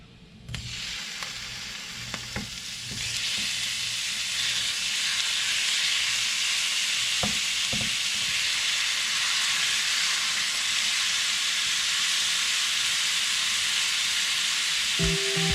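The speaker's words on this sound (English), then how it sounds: "we're gonna sear that beef and just brown it on all sides" Beef sears and browns in a hot skillet for stew, a few clanks and taps giving way to a loud, steady, hissing sizzle that holds close and constant, with a sharp knock near the end.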